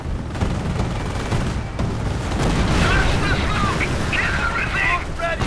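Heavy cannon and artillery fire in the World War II strategy game Company of Heroes, a dense, continuous rumble of booms and blasts with whistling shells and battlefield clatter layered on top.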